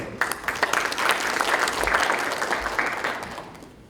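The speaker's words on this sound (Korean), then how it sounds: "박수로 맞아주십시오." An audience at a Democratic Party training session for local government heads applauds to welcome a party official to the podium, with steady, dense clapping that swells and then tapers off.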